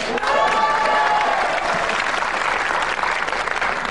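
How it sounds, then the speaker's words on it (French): A TV game-show studio audience applauds a guest on the Roue de la Fortune set, a dense, steady, loud wash of clapping that holds for the full stretch with faint cheering mixed in. "Antoine Lecon est avec nous, je vous demande de l'applaudir d'ailleurs"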